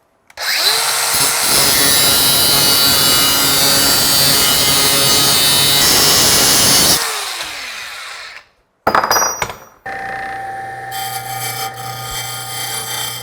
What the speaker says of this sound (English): I'm gonna cut it in the vise with a cutoff wheel because my bandsaw has been running real crooked.